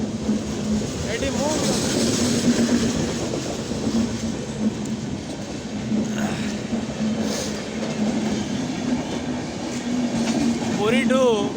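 Puri to Valsad express train passing near Sambalpur on a double line, a continuous loud rumble and clatter of wheels with squeals and a horn-like tone, while people talk over it.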